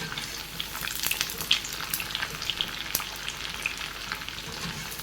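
Raw banana slices for sharkara upperi sizzle steadily in hot oil, a dense crackling fry with occasional sharper pops and a faint stir, close and moderately quiet with no talk.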